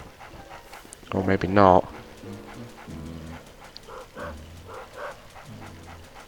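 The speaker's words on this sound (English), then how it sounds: "we have to try and make the dog bark as much as possible" A dog barks and pants in the video game Luigi's Mansion, one loud sharp burst of barking followed by softer repeated panting and yips, with someone talking over it.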